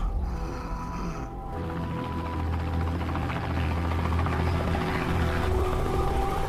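A police helicopter arrives in a film scene, its heavy rotor throb and engine drone building into a continuous, loud rumble over several seconds with other scene noise mixed in.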